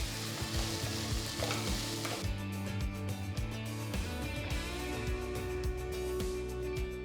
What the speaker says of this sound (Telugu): తరిగిన 3 మీడియం సైజ్ ఉల్లిపాయలు, తరిగిన 2 పెద్ద పచ్చిమిరపకాయలు, కొన్ని కరివేపాకులు వేసి ఉల్లిపాయలు రంగు మారేంత వరకు వేయించాలి